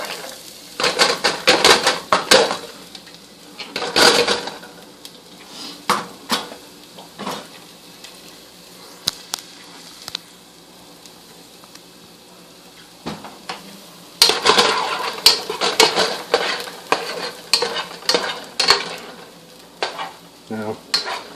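Shallots frying in heated oil give a steady sizzle, overlaid with frequent scraping and clattering of a utensil stirring in the pan, busiest at the start and again in the second half, with no one talking.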